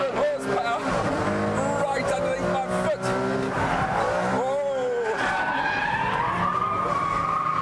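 A Ferrari Enzo brakes hard and turns, its tyres squealing and skidding while the engine howls loudly and close. Someone talks excitedly over the noise.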